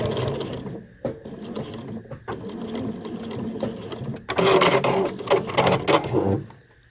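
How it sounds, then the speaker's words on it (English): Close, loud whirring and rapid rhythmic clatter come from a sewing machine straight stitching a 1 cm seam on a zip pouch for a Bella tote bag, running in bursts with short pauses and a faster final run. "I'm just sewing with a 1 centimetre seam allowance."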